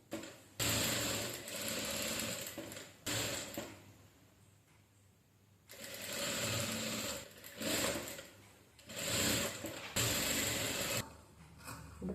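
A sewing machine stitches a facing onto a saree blouse, running in several bursts of steady mechanical whirring with short pauses between them, close and fairly loud with no talking.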